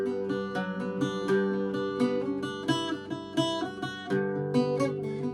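An Irish bouzouki strumming chorus chords, bright ringing strings in a steady rhythm of rich chord changes, close and alone.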